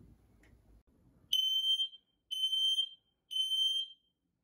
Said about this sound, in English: test that smoke alarm